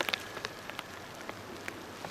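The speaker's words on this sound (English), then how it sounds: "The camera's getting rained on," Rain falls directly onto a camera, giving a dense, close spatter of droplets with scattered sharper taps against a steady wash of rainfall, with no talking.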